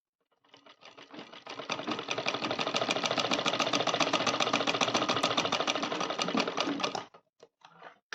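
A sewing machine stitches a Rajputi blouse in one continuous rapid run, a close, loud, even mechanical rattle that starts up, holds for about six seconds and stops, followed by a few isolated clicks.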